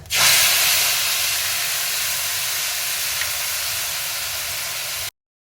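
Soaked spice paste hits hot oil for a paneer dish, bursting into a loud, sudden sizzle that continues as a steady, bright hiss for several seconds before cutting off.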